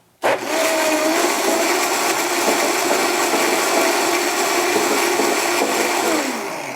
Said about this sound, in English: you might just want to blend the first little bit to get it going. So it's going to be loud.